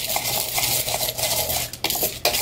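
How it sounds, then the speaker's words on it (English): A spoon stirs popcorn kernels coated in oil and salt inside a bowl, making a loud, close, continuous rattling scrape and clink that pulses with each stroke and lasts a couple of seconds, with no talking. "I'm going to use a spoon and I'm going to stir it around"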